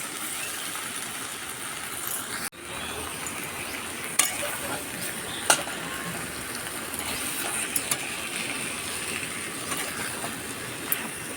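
Mutton stirred and sautéed in a kadai, frying with a steady low sizzle throughout and a few sharp clinks of the spoon against the pan scattered through, close-up and without talk.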